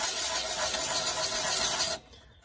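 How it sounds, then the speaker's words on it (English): Loud, steady abrasive whir of a belt sander grinding a copper washer clean, a close continuous rasp that cuts off abruptly after two seconds, leaving a fading mechanical tail. "I got a belt sander."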